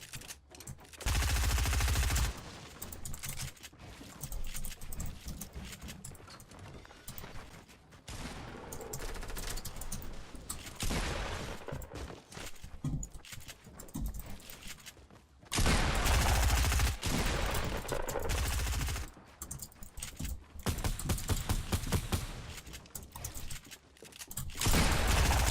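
Rapid bursts of automatic gunfire in a Fortnite match, including AK-style rifle fire, come in long dense volleys separated by brief pauses, loud and close with no talking.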